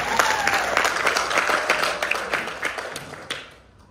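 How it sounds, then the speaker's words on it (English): A group claps in steady applause at a youth leadership course in Singapore, fading away near the end, with a brief cheer at the start. "you can clap"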